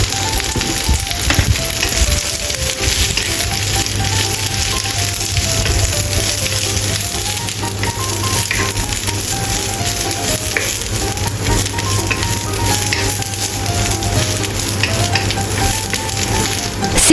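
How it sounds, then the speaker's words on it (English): Cabbage stir-fried in a hot pan, a loud, dense and unbroken sizzle lasting throughout with faint stirring beneath it, close and without speech. "Add cabbage and stir-fry together."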